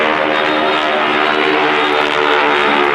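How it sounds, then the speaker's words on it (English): A North American SNJ trainer's radial engine roars loud and close during an airshow flypast at Joint Base McGuire-Dix-Lakehurst, a steady growling propeller drone that fills the whole stretch without a break. "The aircraft is often called the pilot maker because of its role as a trainer, or sometimes old growler due to its distinctive signature sound."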